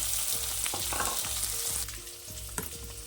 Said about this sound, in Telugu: ఇందులో ఉల్లిపాయలు పచ్చిమిరపకాయలు వేసుకొని వేపుకోవాలి